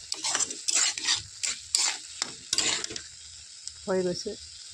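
A spoon stirring apple and date sweet with cardamom in a pan, giving scraping strokes and light clinks with a soft sizzle beneath and a brief voice near the end.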